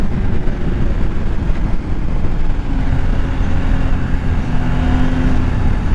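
A KTM motorcycle accelerates hard enough to lift its front wheel at a street demo ride, giving a loud, continuous engine roar and rumble with wind noise close to the rider.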